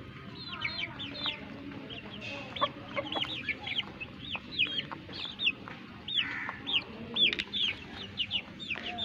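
Several chickens cluck and chatter nearby while being fed wheat grain, a busy, continuous flock with short rising calls overlapping one another.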